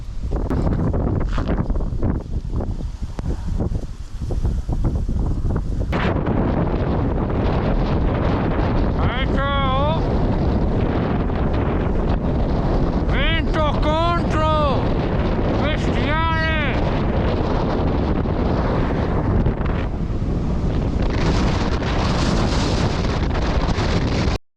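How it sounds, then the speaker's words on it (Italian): Strong headwind buffets the microphone while cycling on a loaded touring bike during Cyclone Thor, a loud continuous roar with gusty surges, and a voice briefly speaks over it. "Soprattutto il vento contro."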